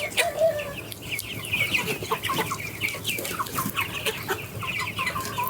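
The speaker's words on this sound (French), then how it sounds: "un joli coq" A yellow naked neck rooster clucking near the listener, a run of quick, busy clucks over a faint farmyard background.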